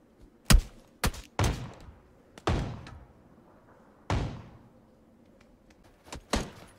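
Gunfire in the video game PUBG cracks out in sharp, separate loud shots with short echoing tails, irregularly spaced over several seconds with quiet between them.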